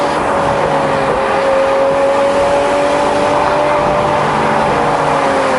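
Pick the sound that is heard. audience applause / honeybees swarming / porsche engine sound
porsche engine sound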